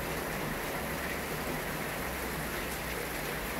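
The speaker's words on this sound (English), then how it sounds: "Just the pure sound of the rain hitting the roof is amazing." Steady, dense patter of rain drumming on a roof in the American South, an even wash of sound with no voices or breaks.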